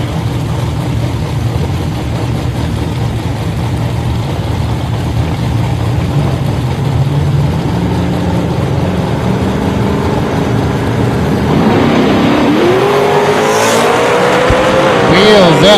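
Drag race cars, one of them a Dodge Dart, launch at Woodburn, Oregon with loud roaring engines building to a rising high-pitched scream near the end, while an announcer talks over the noise.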